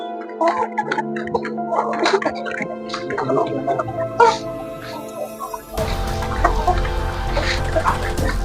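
Several farm chickens cluck and squawk in short bursts, fairly close, followed by a louder rumbling background noise near the end.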